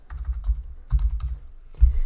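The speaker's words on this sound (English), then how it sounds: "I'm going to continue typing keto diet." Bursts of computer keyboard typing, close and clear, coming in three quick clusters of keystrokes with short pauses between them.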